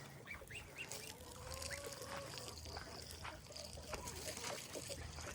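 Ducks quack and geese honk in a backyard farm pen with water nearby, several calls overlapping at moderate distance above a steady outdoor background.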